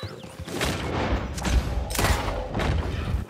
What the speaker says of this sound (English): Let me take out the varmint rifle.